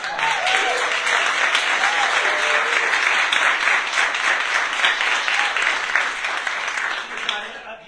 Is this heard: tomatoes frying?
no